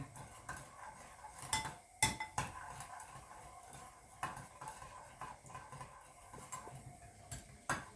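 Spicy Thai salad dressing for a mango and mackerel yam is stirred in a small bowl, with a utensil clinking and tapping against the sides in irregular, close, fairly quiet strokes.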